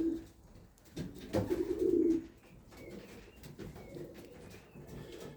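Young racing pigeons coo in a loft, a burst of soft, throaty cooing rising midway with faint shuffling and movement around it, fairly close and without talk.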